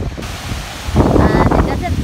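Wind gusting across a coastal bluff above Yaquina Bay on a stormy December day, a broad rushing roar that swells loudly after a quieter start, with a voice speaking underneath.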